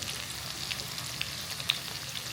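Whole bay leaf, cloves, cardamom and cinnamon frying in hot oil, a steady soft sizzle with faint crackles and a few sharp pops, close up, with no talking.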